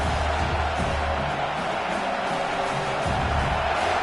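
Home crowd at a United States Football League game roaring steadily as the defense tries to get off the field on third down, a continuous dense wash of cheering and whooping with no clear breaks.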